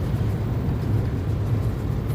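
A car drives up a mountain road into the clouds, and the engine and road noise form a steady low rumble heard from inside the cabin.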